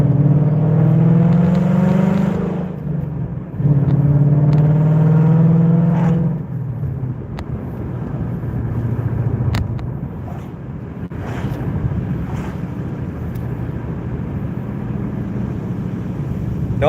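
Engine of a 2020 Ford Mustang with a manual gearbox, rev matching on each downshift: a loud engine note climbs in two strong pulls, then settles into a steadier, lower drone under wind noise.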